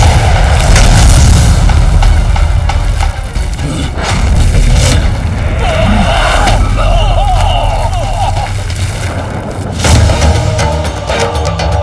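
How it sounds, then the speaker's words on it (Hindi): A loud booming explosion effect in a mythological television drama, a heavy rumbling blast that sustains and rolls for several seconds with crackling debris noise. "कैसा विस्फोट था?"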